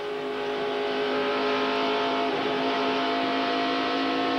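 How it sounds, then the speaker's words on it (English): IROC race car at Michigan, heard from on board, its engine roaring steadily with rising and falling revs as the driver gets on and off the throttle, loud and continuous with no talk. "You can hear him getting on and off the gas."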